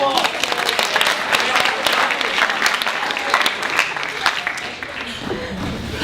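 A warm round of applause from an improv comedy audience fills the room: dense, continuous clapping mixed with crowd noise, loud and sustained before easing slightly near the end.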